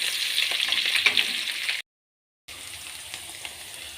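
Onions sizzle and fry in a pan for kadai roti, a steady crackling hiss with a short silent gap before the frying resumes, close and fairly quiet.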